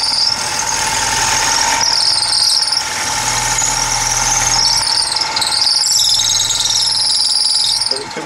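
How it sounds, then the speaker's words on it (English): A power drill whines loudly and continuously with a high squealing pitch while boring a pen blank across a joint, its tone shifting slightly as it works. "The drill is wandering a little bit because of that joint."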